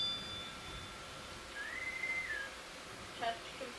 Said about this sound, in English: The following is a test of the ship's whistle and general alarm.